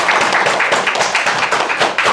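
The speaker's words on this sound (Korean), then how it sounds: "여러분 고생해주신 박재민 대표님께 다시 한번 큰 박수 부탁드리겠습니다." Dense applause from an audience at a youth startup support program event, loud and continuous, with steady clapping and no speech.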